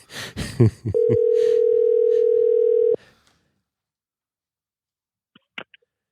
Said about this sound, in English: We're gonna phone another friend here.